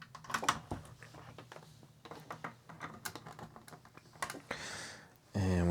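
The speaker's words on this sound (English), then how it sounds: "let's throw our tape in" A cassette tape is pushed into the deck of a National/Panasonic RX-F2 boombox during a restoration, with a series of close plastic clicks and handling knocks, then a louder steady hum starts at the end.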